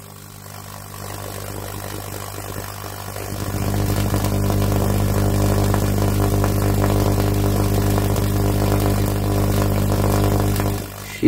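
A loud, steady buzzing hum from a vacuum tube Tesla coil built with a GU-81M tube starts up after a few seconds and drones on evenly before cutting off abruptly at the end.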